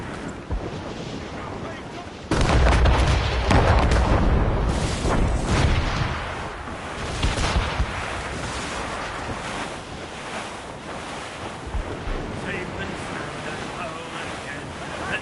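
Stormy gale winds roar over heavy sea waves at sea, a loud broadband rush that surges abruptly after a couple of seconds and stays strong, with gusting buffeting and crashing surf throughout, no speech.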